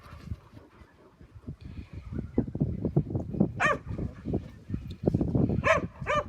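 Several dogs, including an Irish wolfhound, play off lead with repeated close barks, yips and whimpers, rising in intensity toward the end over steady outdoor activity.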